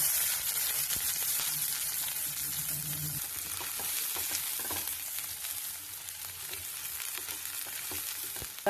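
Chopped ginger and onion sauté in hot oil in a pan, giving a steady close sizzle with occasional stirring scrapes and no talking.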